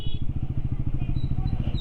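A Bajaj Pulsar NS400Z motorcycle engine throbs with a rapid, even pulse as the rider threads through a traffic jam, sounding loud and close throughout.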